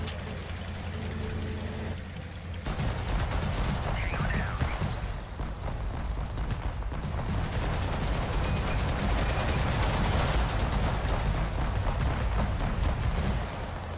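Rapid bursts of weapon fire from AI soldiers in the video game Arma Total Conflict, dense continuous shooting and explosions layered over fourteen seconds with no break.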